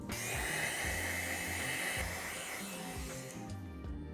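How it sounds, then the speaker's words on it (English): A steady whooshing hair dryer runs close by, drying tape-in water wave hair bundles, its airflow hissing continuously with a slight shift in tone near the end. "Let's hit it with the blow dryer to make sure it's nice and dry"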